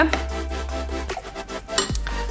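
Thick batter poured over fish pieces and stirred to coat them for kibbeling, giving a soft, wet sloshing and scraping close by in a kitchen, with a brief utensil knock near the end.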